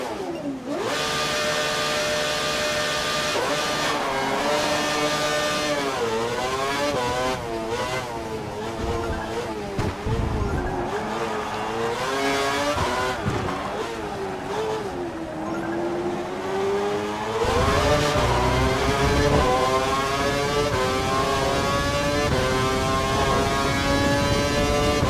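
A Formula 1 car engine in the F1 2012 racing game revs loudly and continuously, its pitch climbing and dropping through gear changes as the car accelerates and brakes, with no talk over it.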